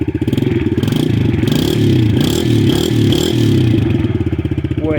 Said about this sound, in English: Starts so much better with the KLX carb.